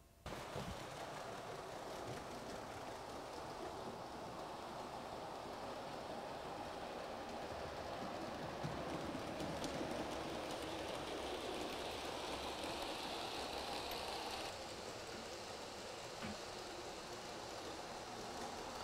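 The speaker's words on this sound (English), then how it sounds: "So now let's run a train." A model train runs along the track of the Chadwick Model Railway layout with a helix and LED and semaphore signals, giving a steady, faint, continuous rumble that shifts slightly midway and carries on with no talk over it.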